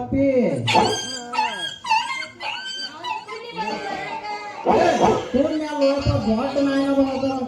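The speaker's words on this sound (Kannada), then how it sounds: "ದೊಡ್ಡ ನಾಯಿನ ಬಂದ ಕಡಿಯಾಕ ಗಂಡ ನಾಯಿ ಅಂತದು ಅದು" A dog barks, yips and whimpers nearby in a series of sharp, excited cries. People's voices mix in among the dog's sounds.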